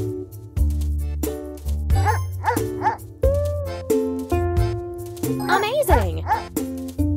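A cartoon dog barks in the Animal Farm mobile game, with bright yips and woofs over cheerful looping game music and jingles, loud and upfront.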